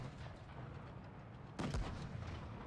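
A tank cannon fires once in a tank video game, a single sharp boom with a short rumbling tail over quiet background noise.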